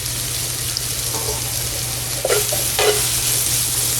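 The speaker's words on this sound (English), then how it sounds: "To my pan, I'm going to add the mushrooms." Mushrooms sauté in a pan with a constant bright sizzle over a low steady hum, punctuated by a couple of scraping stirs near the end, with no one speaking.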